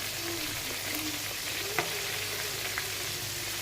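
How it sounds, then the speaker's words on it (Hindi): Pieces of chicken broast fry slowly in oil over low heat, a steady close sizzle and fine crackle with a couple of faint utensil clicks, and no voices. "अब इनको अच्छे तरीके से फ्राई होने दूंगी"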